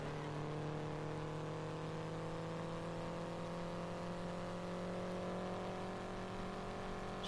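A race car in the Indianapolis 500 Evolution racing game drives laps at Trenton with a steady engine drone and whine, its pitch rising slightly. The sound is faint and continuous, and there is no talk.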